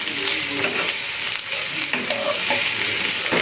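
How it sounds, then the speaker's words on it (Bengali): Vegetables for veg chilli garlic noodles sizzle steadily in a hot pan, a dense, close, continuous frying hiss with occasional soft stirring scrapes and no voices. "এটা একটু ফ্রাই হয়ে যাক"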